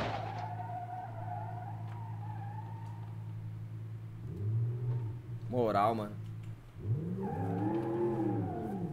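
A car in the BeamNG.drive driving game accelerates and skids, a steady engine drone that surges into a whining rev and a short screech, while someone talks over it.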